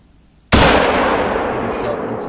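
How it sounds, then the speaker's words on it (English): A single loud rifle shot at a buck in the hunting game theHunter: Call of the Wild, using a .338 rifle, cracks after a brief quiet and rolls into a long, fading boom. "Put a shot into the second buck."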